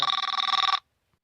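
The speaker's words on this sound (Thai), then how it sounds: "ดี๋ยวผมรับมือถือครับทุกคน" A mobile phone ringing at a rubber plantation, a rapid pulsing electronic trill, loud and close, that cuts off abruptly after under a second, followed by quiet.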